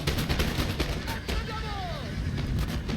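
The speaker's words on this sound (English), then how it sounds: "Not only that, but I get my artillery to put canister in." Battle in Napoleon: Total War, with artillery firing canister and muskets crackling in dense, overlapping volleys, loud and continuous with sharp blasts and a whistling sweep through the middle, a voice talking over the gunfire.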